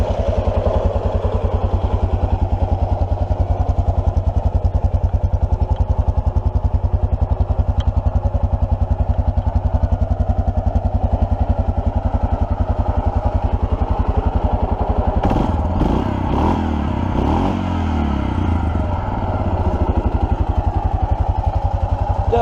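A 2005 Suzuki KingQuad 700cc ATV engine, a barn find, runs loudly and steadily at a low throbbing idle, with a burst of mechanical clatter and revving near the end.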